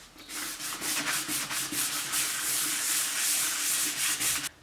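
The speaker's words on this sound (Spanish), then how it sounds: "después de lijar vamos a limpiar con el desengrasante" Steady back-and-forth rubbing of sandpaper by hand, a rhythmic scratchy hiss repeating in quick even strokes, close and moderately quiet.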